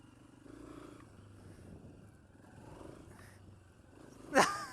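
A Honda CRF150F dirt bike engine idles at a low, steady rumble, fairly faint throughout, before a short sharp knock near the end.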